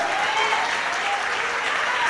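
A church congregation applauding in praise during a Sunday worship service, a dense, steady wash of clapping that fills the whole moment with no voices standing out.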